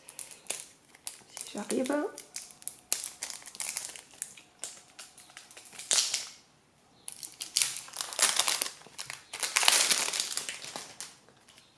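The packaging of an oracle card deck is opened by hand, giving close, intermittent crinkling, tearing and rustling in bursts, with someone speaking briefly between them.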